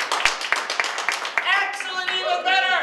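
Several distinct hand claps from an improv show audience in a theater at the start, then cheering and whooping voices take over, lively and fairly loud.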